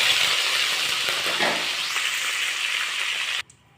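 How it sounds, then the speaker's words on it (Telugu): Curry leaves, seasoning seeds, dried red chillies and garlic cloves are dropped into two tablespoons of hot oil in a kadai. A strong, steady hissing sizzle runs without a break and then cuts off abruptly. "బాండీలో 2 టేబుల్ స్పూన్ ఆయిల్ తీసుకొని దీంట్లో కరివేపాకు, తాలింపు గింజలు, ఎండుమిరపకాయలు, వెల్లుల్లి రెబ్బలు యాడ్ చేస్తాను"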